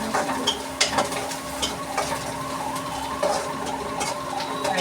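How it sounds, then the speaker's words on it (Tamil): Onions sautéing in a pan with steady sizzle and occasional stirring scrapes, close and continuous, no talking. "லைட்டாக வெங்காயம் வதங்கிடுச்சு"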